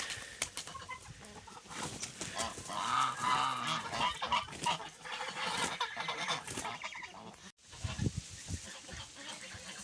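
Several domestic geese honk repeatedly at close range while eating cabbage, loud overlapping calls with brief pauses, mixed with clucking farmyard birds.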